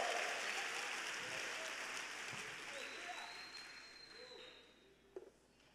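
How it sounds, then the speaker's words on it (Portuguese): A church congregation applauds, with broad sustained clapping that starts loud and gradually fades away, ending with a couple of faint knocks. "Você pode aplaudir a Jesus por isso?"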